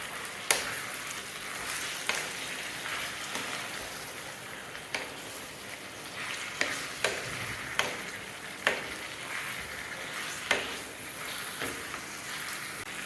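Chicken curry, dhaba style, sizzles steadily in a pan while a spoon stirs through it, with scattered sharp scrapes and clinks against the metal, close and moderately loud with no talking.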